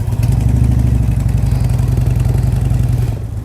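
A motorcycle engine runs just after starting, a loud close idle with a steady throbbing clatter that holds throughout and dips slightly at the end.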